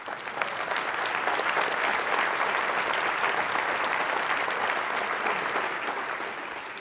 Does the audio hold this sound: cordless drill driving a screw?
no